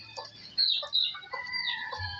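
A rooster named Balao, a prized gamecock kept with other roosters, gives several close, sharp clucks and short squawks in quick succession.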